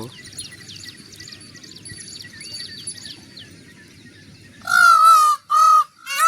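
A peacock near a cattle shed gives loud, shrill, wailing calls in three bursts toward the end, preceded by softer distant birdsong over a low rumble of farm background noise.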